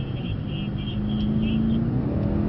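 A Mercedes-AMG C63 S accelerates on a track, its engine note climbing in a steady rising drone close to the cabin, with faint high tones above.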